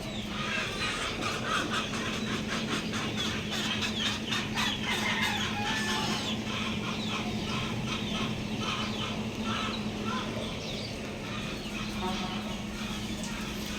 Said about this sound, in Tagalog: pinakikinggan niya yung mga manok